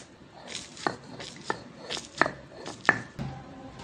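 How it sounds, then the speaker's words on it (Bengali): Chili, garlic and onion with salt are pounded and ground by hand into a bhorta paste, giving sparse, quiet thumps and scrapes at an irregular pace, close by, with no talk. "ভর্তাগুলো এখন বেটে নেব।"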